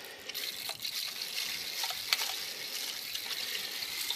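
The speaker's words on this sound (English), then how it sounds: "Just take your water bottle and pressurize it off, just like this." Water sprays from a hand-pumped pressurized water bottle sprayer while cleaning car wheel rims, a continuous close hiss of fine mist with small fluctuating spurts and no talking.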